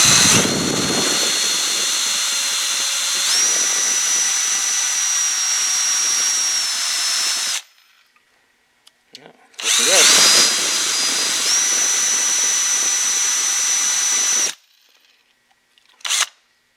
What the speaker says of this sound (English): We're just going to run this drill in this hole and we're going to polish up this seat